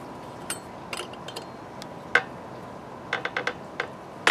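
Scattered light metallic clicks and ratcheting ticks as a blade fitting is tightened down on a 26cc Wild Badger Power string trimmer, faint and irregular in a quiet room.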